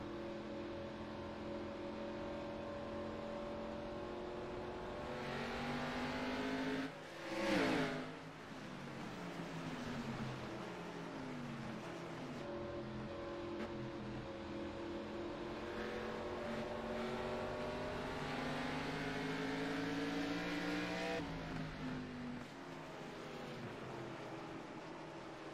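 Race cars on the short oval at Lucas Oil Raceway, engines droning in layered rising and falling tones, with one car sweeping loudly past in a sharp pass-by before the pack hum continues.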